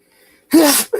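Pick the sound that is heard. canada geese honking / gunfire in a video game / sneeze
sneeze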